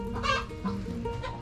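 A chicken clucks several times in short, close bursts over a low background murmur.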